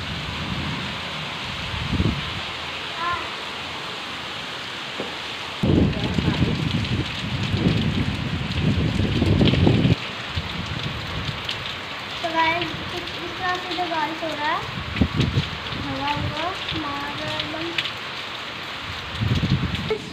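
Steady heavy rain hisses in the background while a person talks over it in several stretches, with some louder splashing moments.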